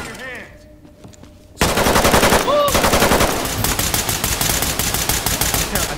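Heavy automatic gunfire in the tactical shooter Ready or Not: after a quieter opening, loud sustained bursts of rapid shots kick in and keep hammering steadily through the rest, close and dense.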